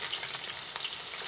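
Jackfruit pieces sizzle steadily in hot oil, a dense crackling hiss that fills the short stretch at an even level with no voices over it.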